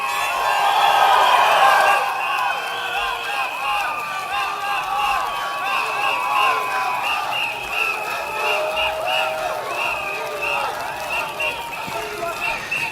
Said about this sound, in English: You're cheering?